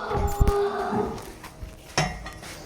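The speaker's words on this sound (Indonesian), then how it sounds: "Spesial hari ini kita ngonten di setiap farm ada sapi raksasa Bisma" A giant cow on a farm gives a loud, drawn-out moo up close, followed by shuffling and knocks around the animal.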